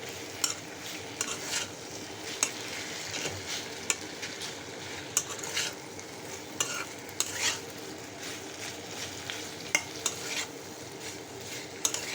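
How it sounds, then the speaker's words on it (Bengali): Chalta (elephant apple) pickle fries in a pan, a steady sizzle broken by repeated scraping strokes of a spoon stirring through it, close and continuous without talk. "ভালো মতো আমি ভেজে নিচ্ছি"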